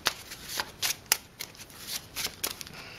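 Playing cards for a Lord of the Rings card game are shuffled up close in a series of quick riffles and crisp bursts, about ten in all, with no voices.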